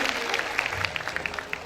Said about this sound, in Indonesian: Boleh minta tepuk tangannya dong.